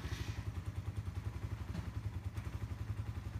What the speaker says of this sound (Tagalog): kung mapapansin niyo po, medyo mababa yung idle speed o minor ng ating motor